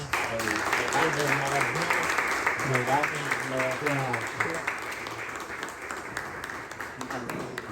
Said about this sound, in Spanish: quiero felicitarte y darte un aplauso de todas las personas que están hoy aquí